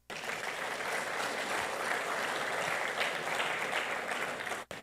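A church congregation at a men's service applauds steadily and densely, a loud continuous wash of many hands clapping that holds for several seconds before cutting off abruptly.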